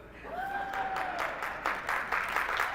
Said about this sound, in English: That may be the biggest round of applause Jim Lee has ever received in his lifetime